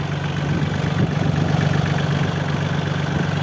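A two-year-old mini tractor engine idles steadily up close, a loud, even low rumble with a constant throb and no speech.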